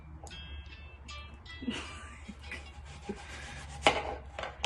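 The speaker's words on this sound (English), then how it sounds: "The next step we're gonna do is cut the apple in thin, very thin slices." A knife cuts thin slices from a peeled apple on a board in a home kitchen, making soft, faint rubbing scrapes and a few light taps as each slice comes away.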